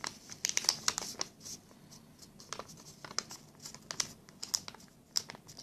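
Paper folded down by hand while shaping a small paper cup for a ball-and-cup toy, giving soft, close crinkles and crisp creasing rustles in scattered bursts with quiet gaps between them.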